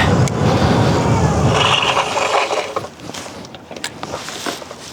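A Yamee XL Plus fat tire foldable electric bike rolls fast across grass with a loud rushing tire rumble, which fades as it brakes to a stop, leaving faint scattered clicks and rustles.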